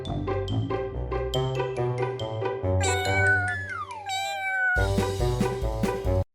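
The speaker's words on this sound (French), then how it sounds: "Les chats ne miaulent jamais sans raison." A cat meows several times in short, bright calls, then gives a longer drawn-out falling meow and a few final cries, close and clear with nothing else heard.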